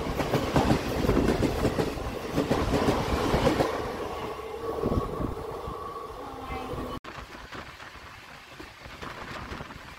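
The Rupasi Bangla Express rolls along the rails with a steady rumble and rhythmic wheel clatter heard from on board, loud at first and easing to a quieter hum after an abrupt cut.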